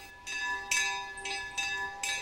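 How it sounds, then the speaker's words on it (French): A hand-rung bell at Château d'Yquem, the wine estate, swung by hand to mark the start and end of the workday, clangs in several uneven strikes over about two seconds, each ringing on into the next. It sounds moderately close, with no talk. "c'est lui qui sonne la cloche rituellement"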